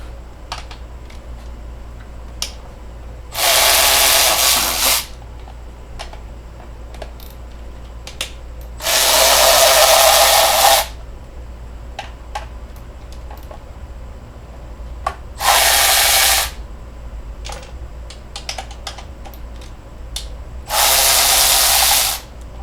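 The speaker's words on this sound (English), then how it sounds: "I'm going to be using my M12 ratchet with a 10mm socket" A Milwaukee M12 cordless ratchet with a 10mm socket spins bolts off the engine cover of a 2003-2006 Honda Accord 2.4L: four loud, close bursts of whirring, each one to two seconds long, separated by quiet pauses with faint clicks.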